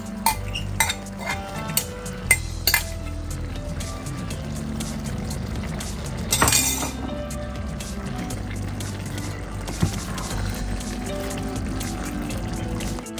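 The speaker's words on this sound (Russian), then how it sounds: "Теперь добавляю перетертые томаты." Grated tomatoes pour into a pot amid light clinks of utensils and a pan, a brief splashy burst near the middle, with steady kitchen clatter throughout and no talking.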